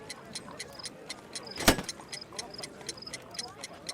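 Ticking of a homemade bomb in Sherlock Holmes: The Devil's Daughter: a steady, regular clock-like tick repeating about four times a second over quiet ambience, with one brief sharp metallic jolt partway through.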